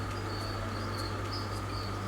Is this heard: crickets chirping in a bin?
yes